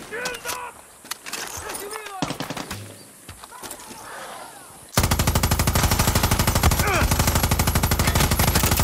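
A gun firing in the video game Far Cry 6, starting with scattered shots under someone talking, then breaking into a long, loud, rapid automatic burst that runs steadily to the end.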